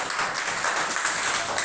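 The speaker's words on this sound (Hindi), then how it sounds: "सीता हो गई आउट। ताली बजाइए।" Children clapping hands during a classroom number game, a dense, steady burst of many small hands applauding together at close range, with no talk over it.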